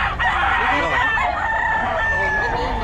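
A Golden Boy Sweater gamefowl rooster crows loudly and close by in a sustained, harmonic call, with other fowl clucking and faint voices murmuring in the background.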